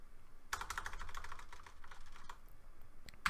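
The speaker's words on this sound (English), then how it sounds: "So we're going to type whatever." Fingers type on a computer keyboard, a quick run of close, crisp key clicks that slows and thins out, then ends with a final short burst of keystrokes.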